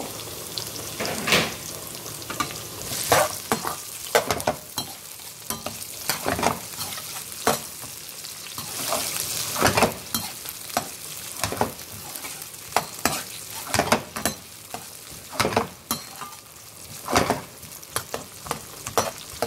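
Thin potato slices sizzling steadily in hot oil while being stirred, with frequent sharp scrapes and clicks of the utensil against the pan, close and fairly loud, no talking.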